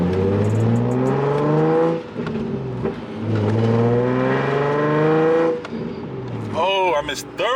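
Nissan Z engine revving loud and close through the gears, pitch climbing in sweeping runs, with a fumbled, missed shift into third near the end; a voice speaks over the engine.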